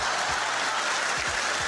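A live audience at a Michael McIntyre stand-up comedy special bursts into dense, continuous applause that stays loud and even throughout, with a faint low rumble beneath it.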